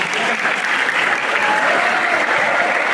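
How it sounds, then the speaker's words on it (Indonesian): Loud, dense applause from a seated audience at a Teacher's Day gathering in a school hall, continuous clapping throughout with no talk. "tepuk tangan untuk kawan kita duduk paling belakang ke depan"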